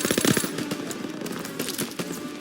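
Rapid gunfire in the video game Call of Duty: WWII, with a loud, dense burst of repeated shots over continuous battle noise, close and heavy throughout.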